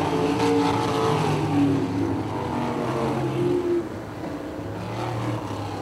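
Wingless sprint cars race wheel to wheel on an oval track, a steady loud engine roar with shifting overlapping tones from several cars passing through the turns.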